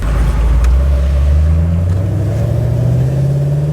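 Loud, steady Pontiac G8 GT engine drone from inside the car while driving, with a low exhaust rumble that gradually rises in pitch.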